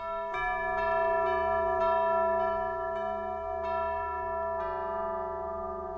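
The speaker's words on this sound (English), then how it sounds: "Tubular bells, I could get excited about yet another tubular bells patch" Tubular bells from an orchestral sample library ring out in a series of struck notes, each with a bright metallic attack and long overlapping sustain, clear and resonant with no voices.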